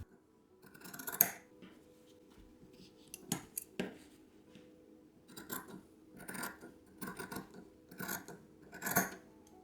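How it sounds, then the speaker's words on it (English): Scissors snip thread tails and trim the seam allowance of a sewn French-seam drawstring pouch, a quiet series of separate sharp cuts spaced irregularly, close by, with no talk. "we're going to trim off the thread tails and cut the seam allowance in half"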